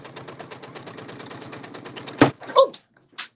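A sewing machine stitching fast at a quilting demonstration, a rapid even mechanical patter that runs steadily, then stops abruptly with a clunk and a few clicks and squeaks.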